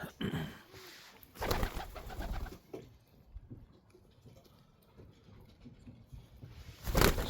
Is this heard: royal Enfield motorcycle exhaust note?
no